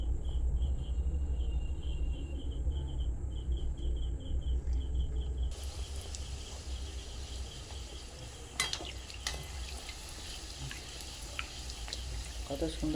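Pea-stuffed kachori going into hot oil in a kadai: a steady low bubbling sizzle that runs throughout, joined by a higher hiss after the first few seconds and a couple of brief clatters, with someone talking over it.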